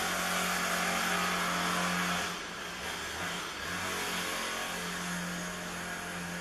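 A motorcycle passes by, its engine hum rising and falling as it goes past, a steady mid-distance drone behind quiet surroundings.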